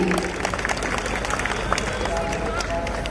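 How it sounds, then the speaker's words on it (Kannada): An audience at an event breaks into loud, sustained applause, a dense wash of many hands clapping steadily with crowd noise and some voices mixed in. "3, 2, 1 ಒಂದ್ಸಲ ಜೋರಾದ ಚಪ್ಪಾಳೆ ಬರಲಿ."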